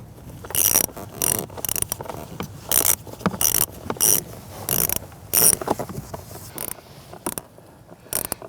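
A ratchet clicks in quick bursts as it snugs down the screw on the blower motor resistor cover of a 2011-2019 Ford Explorer, with sharp close repeated ratcheting strokes and short pauses between them.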